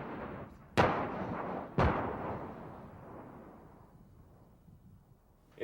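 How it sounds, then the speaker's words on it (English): Two sharp, heavy blasts about a second apart as C4 detonates a weapons cache in Afghanistan, each followed by a long rumbling decay, with a further thump at the very end; no talk. "I pack it with C4 and a usually not, and it just detonates."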